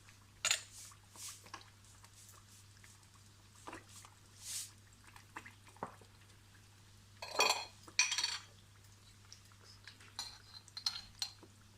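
A fried egg lifted from a pan into a bowl for egg fried rice, heard as quiet, intermittent clinks and scrapes of utensil against metal and dishware, with a few sharper taps in between.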